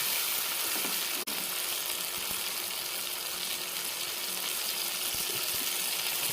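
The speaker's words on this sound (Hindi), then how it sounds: "लहसुन और हरी मिर्च मैंने फ्राई कर लिया इसमें प्याज के अंदर" Garlic, green chili and onion fry with tomato paste in a pan, giving a steady, dense sizzle throughout with one sharp click near the start.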